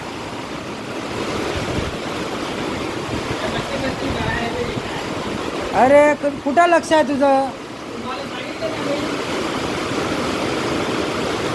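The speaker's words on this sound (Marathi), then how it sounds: "काय पाऊस पडायला लागला असला पाऊस" Heavy rain pours down on a house under construction beside a water tank, a loud, steady roar of broadband noise throughout, with a voice speaking briefly midway.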